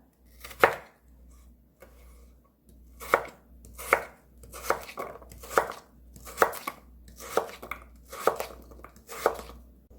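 A knife chops radish into cubes for kkakdugi on a cutting board, making crisp, repeated thuds in loose rhythmic bursts, close and clear, with no voices.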